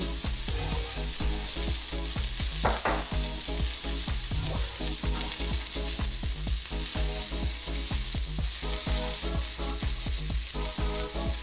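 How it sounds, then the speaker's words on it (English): Dijon chicken strips fry in a hot pan, giving a steady, loud sizzle that runs throughout with small crackles and occasional stirring or flipping sounds on top, and no talking. "Super important to keep flipping the chicken."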